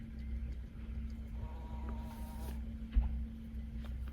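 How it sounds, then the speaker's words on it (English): Wasps buzz around a parked van in Scotland, a faint, quiet insect drone with a steady hum beneath it and a small knock partway through. "wasps keep flying in"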